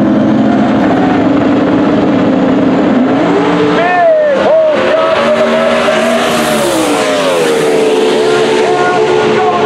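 A blue Toyota Corolla drag race car at a Manassas, Virginia event revs its engine loudly, pitch rising and falling in sweeping surges, with crowd and announcer talk beneath.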